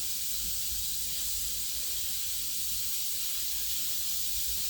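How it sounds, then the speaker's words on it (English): A pressure cooker hisses loudly and steadily in a home kitchen, a continuous, bright, close-up stream of steam with no break or talking. "That's my pressure cooker starting to get really loud"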